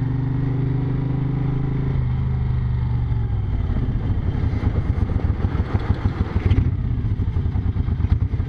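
A 1970s Moto Guzzi California motorcycle engine runs close by, idling with a low throbbing hum before settling into a loud, rapid clattering pulse that continues throughout.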